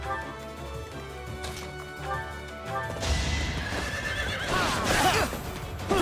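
A horse in Fire Emblem: Three Houses gives a loud, rising whinny and neigh in the second half, while clopping hooves and a music bed run beneath it.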